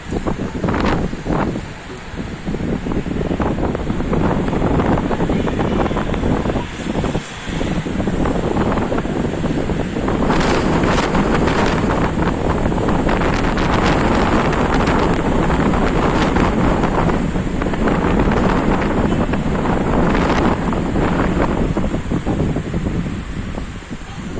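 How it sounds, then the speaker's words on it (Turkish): Strong storm wind on the İzmir coast buffets the microphone nonstop, roaring and gusting loudly, with a faint wash of surf underneath. "Çok fena rüzgar çıktı arkadaşlar."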